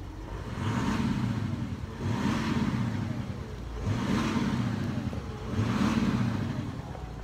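A 2018 Audi SQ7 with a 430 bhp engine revved repeatedly, four loud swelling rises and falls of the engine note heard up close with no talking.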